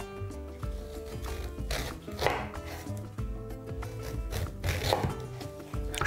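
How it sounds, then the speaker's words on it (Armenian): A knife chops a peeled, cored quince into cubes on a board while cooking a lamb and quince sauce, irregular close knocks and cuts over steady kitchen background with music. "և կտրատենք խորանարդիկների։"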